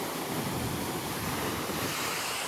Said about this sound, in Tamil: அந்த இடத்துல பயங்கரமாக அலடிக்குது.